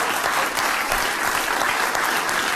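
Loud, dense audience applause fills the room without pause, a continuous wash of many hands clapping close and strong throughout.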